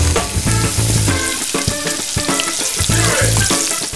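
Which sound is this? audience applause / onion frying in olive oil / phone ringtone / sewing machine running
onion frying in olive oil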